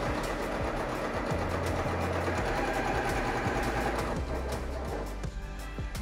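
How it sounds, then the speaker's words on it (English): A sewing machine stitches a bias-cut tee in a steady, fast, continuous whir with rhythmic needle clatter, close and loud, easing off briefly near the end. "I'm going to continue sewing on the other side"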